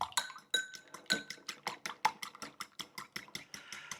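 Eggs being whisked in a bowl with a utensil for microwave eggs, giving rapid, regular clinking strikes against the bowl side, close and fairly quiet, with no talking.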